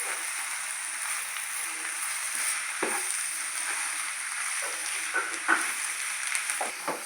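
Egg fried rice seasoned with turmeric and salt sizzles steadily in a pan while a spoon stirs it, with soft scrapes and taps breaking through the constant frying hiss.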